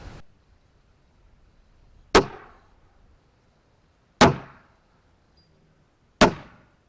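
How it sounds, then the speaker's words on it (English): CCI Suppressor .22LR 45-grain lead hollow point rounds fired into ballistic gel: three sharp, close, quiet reports evenly spaced about two seconds apart, each decaying quickly into silence. "Couple rounds through the gel."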